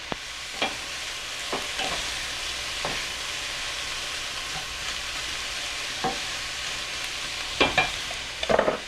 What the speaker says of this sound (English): Okay, so these have been slowly sauteing, and you see they're almost there.